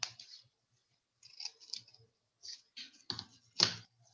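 Scissors snip through paper in a series of short, close, crisp cuts, spaced irregularly with pauses between them, the last snip the loudest.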